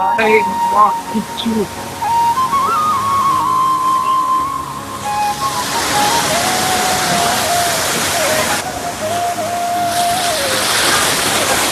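Steady rushing water roars like a waterfall, growing louder partway through, with a sustained whistle-like tone and brief voices at the start.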